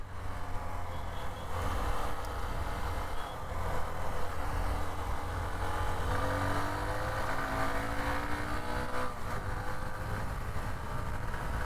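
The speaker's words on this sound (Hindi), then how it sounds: "125cc की बाइक चला रहा हूँ." A Hero Xtreme 125R 125cc motorcycle being ridden, with a steady engine drone and rushing wind noise throughout, sometimes rising in pitch as it revs, heard close and continuous.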